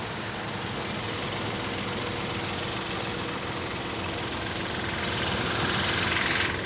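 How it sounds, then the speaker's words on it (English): A 2021 Kia Picanto GT engine idling steadily, a close, even mechanical hum with a slight rise in intensity near the end, no voices. "Let's give it a rev. See if you can hear it."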